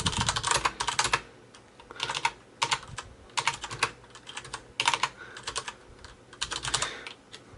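Steady typing on a backlit computer keyboard, close and crisp, with bursts of rapid key clicks separated by short pauses and no talking.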